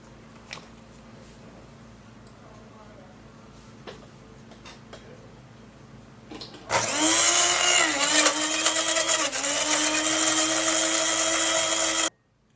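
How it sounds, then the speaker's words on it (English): Countertop blender whirring through aloe vera gel for a homemade skincare mix, starting abruptly after quiet handling sounds and running loud and steady for several seconds before cutting off. "Alright, now we'd have to blend it"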